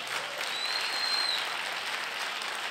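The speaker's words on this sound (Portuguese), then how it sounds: "Então dê um aplauso a Jesus." A church congregation claps together, a dense, even wash of applause from a crowd that holds steady for a few seconds at moderate volume.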